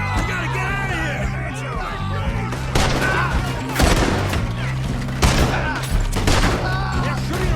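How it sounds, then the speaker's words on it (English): Gunfire in the video game Red Dead Redemption 2 comes as a string of sharp, loud shots in irregular bursts, mixed with shouting and rapid character dialogue over a low background score. "They're shooting right at me!"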